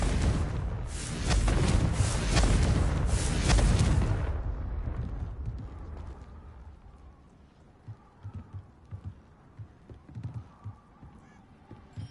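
A Confringo explosive spell cast in Hogwarts Legacy, a loud roaring burst that holds for about four seconds and then trails off into fainter scattered thuds and rumbles.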